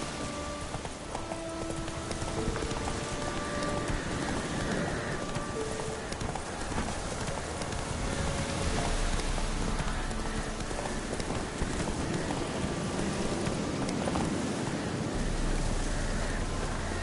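Geralt's horse Roach gallops through rain in The Witcher 3, steady rhythmic hoof clip-clops carrying on throughout over a constant wash of rain and wind, moderately loud and unbroken.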